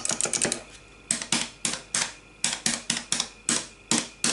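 Clicky buttons on a mini arcade cabinet pressed in quick bursts, sharp close clicks coming in uneven clusters and then a steady run of single presses, with no talk.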